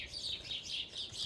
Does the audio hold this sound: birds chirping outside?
yes